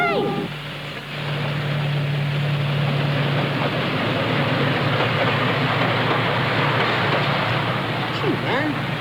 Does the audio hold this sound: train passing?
yes